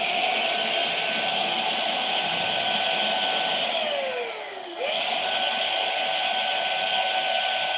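An electric air duster blows steadily through a swimming-ring nozzle to inflate a ball, a loud, continuous whine that dips and sags for a moment before returning to full strength.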